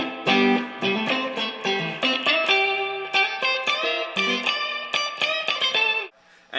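An electric guitar plays a run of bright, picked notes through a Boss digital reverb pedal set to spring reverb mode, each note ringing with a splashy tail before it drops away near the end.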